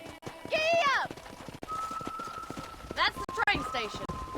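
Horse hooves clip-clop at a steady trot in the Red Dead Redemption video game, close and rhythmic, while voices talk over them and a brief whistle-like call rises near the start.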